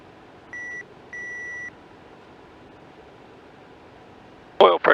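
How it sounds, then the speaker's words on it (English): An aircraft cockpit oil pressure warning, sounding as the oil pressure drops in hot weather, gives two steady electronic beeps, a short one then a longer tone, over a low background hum, followed by a brief burst of noise. "See the beeping if it doesn't go out after a second or two."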